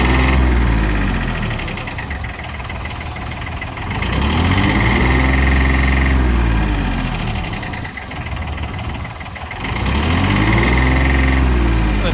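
A tractor diesel engine idles steadily at 750 rpm, then revs up twice in long rising-and-falling surges, loud and close, with a mechanical whine on top.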